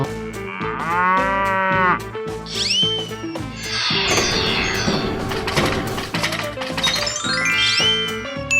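A cartoon cow moos loudly several times in a children's animal cartoon, long drawn-out calls mixed with whistling, playful effects and a steady background tune, with no talk.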